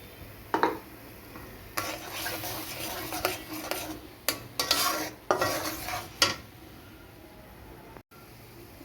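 A spoon scrapes and stirs turmeric and chili powder around a pan, giving irregular scraping strokes and clinks over a faint sizzle, close and fairly loud with no talking.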